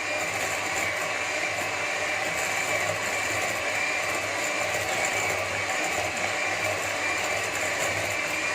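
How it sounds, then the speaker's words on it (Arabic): Cake batter being beaten with an electric mixer until it turns pale white, a steady continuous whirring motor drone with a gritty ratcheting texture, close and loud throughout with no talking. "دابا انا غادي نبقى نطرب حتى غادي يولي ليا بيض"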